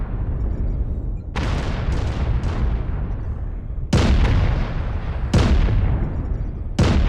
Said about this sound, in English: Artillery spotted. strike online.